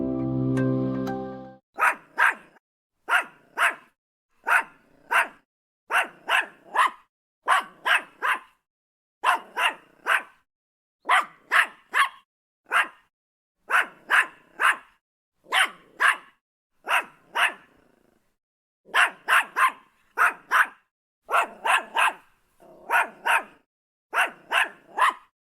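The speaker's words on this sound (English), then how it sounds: "Yorkie dog barking." A Yorkshire Terrier barks alone in sharp, high yaps, mostly single or paired, repeating steadily through a long stretch with one brief pause midway.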